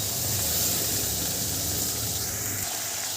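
Tomato drops into a pan of frying onion, garlic and ginger while cooking crab malai curry, giving a steady, close, loud sizzling hiss with no talking.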